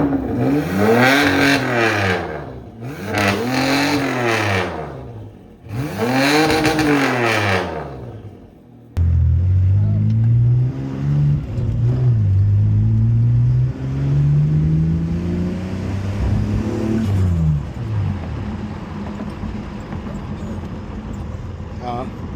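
A Mitsubishi 3000GT fitted with a SOHC turbo engine runs and revs, the engine note climbing and falling through several pulls after a stretch of people talking up close.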